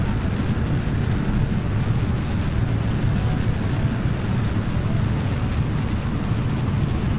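Solid rocket boosters firing in Kerbal Space Program, a dense continuous roar of broadband rumble that stays loud and unbroken for the whole stretch, with no pauses or talk over it.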